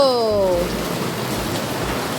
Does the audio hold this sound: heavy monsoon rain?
yes